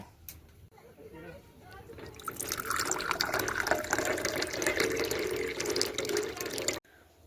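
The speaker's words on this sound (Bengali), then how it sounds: "এই কাপে যে কজনার বানাবো সেই ক কাপ পরিমাণে জল নিয়ে নেব" Tap water runs steadily into a tea cup at home, starting with light trickles and swelling into a strong, close, continuous pour before stopping abruptly near the end.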